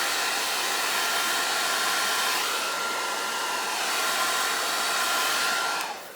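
Close, steady roar of a hair dryer blowing over alcohol inks on vellum, holding even for several seconds before switching off and trailing away at the end.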